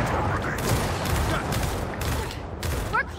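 Rapid, steady gunfire in the Gears of War 4 campaign, close and loud from start to finish, with brief bursts overlapping a dense, booming background.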